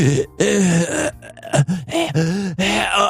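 A voice imitates an old woman's gurgling wheeze, a loud strained groaning rasp with wet, gasping breaths, close up.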